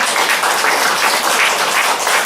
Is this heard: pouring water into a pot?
no